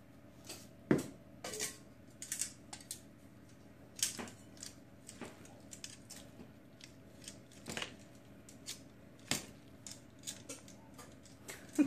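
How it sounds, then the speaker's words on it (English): Metal kitchen tongs click and clack sporadically against a pan while turning Greek spaghetti with Parmesan cheese, giving sharp, separate taps over a quiet, faintly sizzling background. "These tongs are not working."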